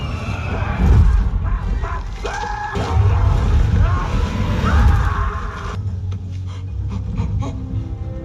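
A horse, the mount a rider rides in a film, gives loud, drawn-out neighs and whinnies over heavy rumbling background sound, with a busy, noisy scene continuing throughout.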